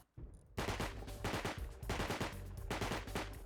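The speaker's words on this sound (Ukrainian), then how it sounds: "Хтось з ними тут стріляється" Gunfire between players in the survival game Rust, heard as repeated rapid automatic bursts separated by short pauses, loud and sharp rather than faint, with no talk.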